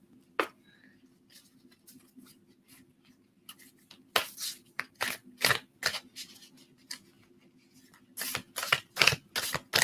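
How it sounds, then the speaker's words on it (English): A deck of cards is shuffled up close in a quiet room, sparse soft flicks at first, then bursts of sharp riffling snaps in rapid clusters, with a low steady hum underneath. "let me just shuffle these cards to get all this energy out of here"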